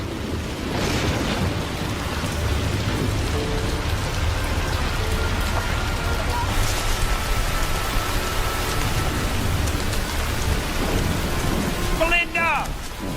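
Heavy rain pours steadily throughout, loud and close, with a low rumble of thunder underneath; no one speaks.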